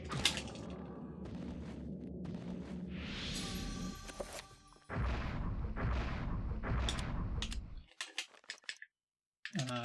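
Gunfire in the GameCube horror game Eternal Darkness: Sanity's Requiem, a dense, loud burst of shots and booms lasting several seconds, then a gap and a scatter of sharper single cracks, with no talk.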